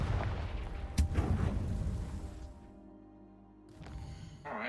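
In Hogwarts Legacy, a Confringo spell goes off as a sharp, muffled boom, followed by a rumbling, fading tail. Other low game effects sit faintly around it.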